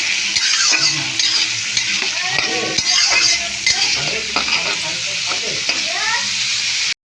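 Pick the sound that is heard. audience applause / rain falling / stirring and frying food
stirring and frying food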